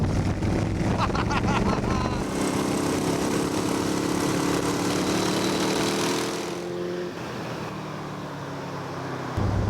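A Dax Rush car engine roars loudly and steadily under full-throttle acceleration, with rising harmonic tones and heavy wind rush, easing off briefly before picking up again.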